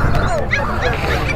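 A puppy for sale yips and barks in quick, high bursts, close by, with people talking over it at an outdoor Friday market in Pallavaram.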